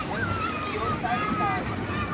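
Ocean waves washing ashore at Praia do Forte in Bahia, Brazil, a steady broadband surf wash with wind noise on the microphone, while voices talk faintly over it.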